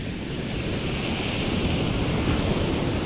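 Surf breaking steadily on the shore at Prado, Bahia, a loud continuous wash of water with wind buffeting the microphone and no voices.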